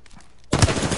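Gunfire in a PS4 shooter: after half a second of quiet, a loud, sustained burst of rapid shots erupts and continues to the end.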